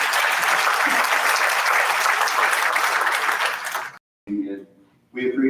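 Audience applause for city council candidates at a meet-the-candidates luncheon, dense steady clapping for about four seconds that stops abruptly, followed by brief talk.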